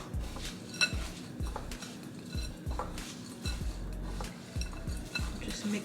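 Granola oats and spices, with an apple-cinnamon touch, get mixed in a bowl: a steady rhythm of spoon scrapes and soft clinks against the dish, repeating about every half second, close but fairly quiet.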